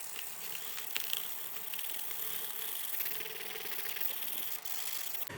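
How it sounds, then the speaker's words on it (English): Sandpaper of 150 grit rubs steadily against the painted logo on a guitar headstock, a continuous close dry rasping scrape with slight strokes in its texture and no talking. "I'm gonna use 150 grit just to kind of take it down and then smooth it out with some lighter grit."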